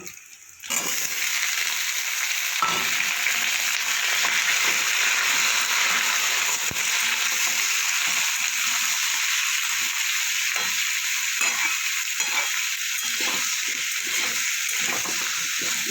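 Chopped bottle gourd goes into a hot pan for a lentil and gourd dish, setting off a loud, sustained sizzle and hiss with stirring scrapes, close and unbroken for the whole stretch.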